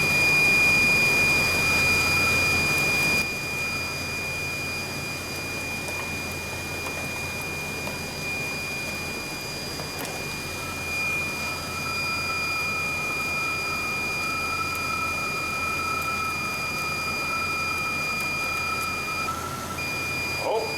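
A Pontiac Grand Am with a weak battery idles steadily nearby, a constant broadband hum with a sharp whine running throughout and a louder stretch at the start before it settles.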